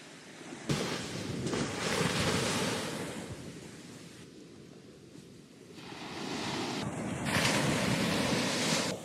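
Steady ocean surf rolling onto a beach at Vengurla, a broad rushing wash that swells, eases briefly midway, then builds again, fairly loud and continuous with some wind noise and no talking.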